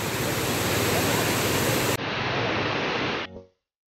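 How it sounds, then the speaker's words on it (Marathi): The large Amboli waterfall roars as a loud, dense, continuous rush of falling water that cuts out abruptly near the end. "तर हा बघा किती भव्य भव्य धबधबा आहे बघा"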